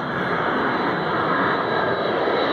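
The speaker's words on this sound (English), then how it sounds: "Oh, listen to the hydraulics." A Blue Angels jet lands, its engines and hydraulics roaring as a loud, steady, unbroken drone with no speech.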